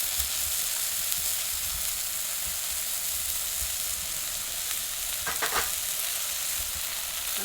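Papaya pieces sizzle steadily in a hot oiled pan, a continuous frying hiss with a brief clatter of stirring near the end and no talking.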